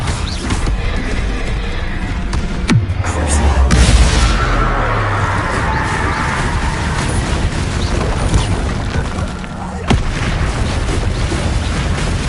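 In Hogwarts Legacy, a Bombarda spell explosion lands with a loud, close boom that swells and rumbles, set in dense, continuous game combat noise with a sharp crack later on.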